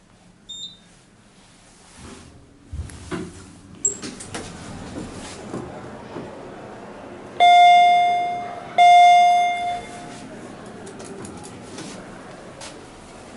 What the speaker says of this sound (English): There's your bell right there. Generic bell.